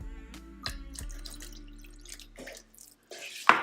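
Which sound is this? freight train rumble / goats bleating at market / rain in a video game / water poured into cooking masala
water poured into cooking masala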